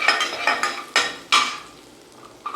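Ginger, garlic and green chillies sauté in a pan for a chicken fry, with a few sharp bursts of sizzling and stirring scrapes close up, then a quieter hiss and one last short burst.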